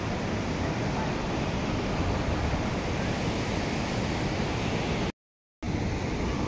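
Wide, loud river flowing high with a lot of water, a steady broadband rushing roar that fills the whole clip with no voices, broken by one brief dropout near the end.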